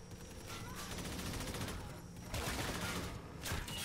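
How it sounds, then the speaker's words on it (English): Rapid automatic gunfire in Call of Duty: Infinite Warfare rattles in several dense bursts, moderately loud amid busy battlefield noise. "Where am I being shot from?"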